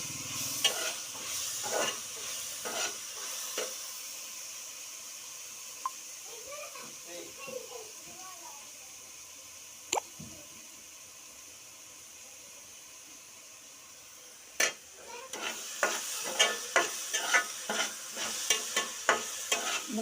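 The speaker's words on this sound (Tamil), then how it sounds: "வெங்காயம் என்னன்னா இப்போ வதங்கிட்டு வருது பாருங்க" Sliced onions for a Tamil-style fish curry soften in a pan with a quiet, low sizzle, punctuated by bursts of spoon stirring at the start and end, while someone talks in the middle stretch.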